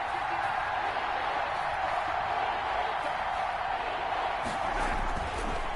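Steady roar of a stadium crowd cheering in Madden 21 ahead of a big third down, a dense wash of crowd noise running unbroken throughout, with no clear break or surge.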